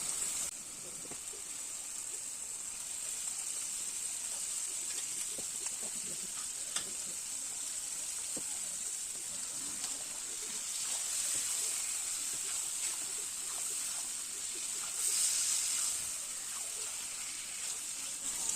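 Meat sizzles steadily in a hot pan of spiced oil in a home kitchen, a continuous bright hiss with small crackles and pops that swells slightly near the end. There is no talking.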